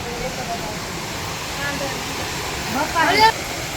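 A waterfall at Ambardi Safari Park rushes as a constant broadband roar, with a few faint bird chirps near the end.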